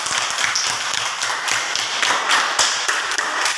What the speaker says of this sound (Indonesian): kita beri tepuk tangan untuk kelompoknya Da Silva dulu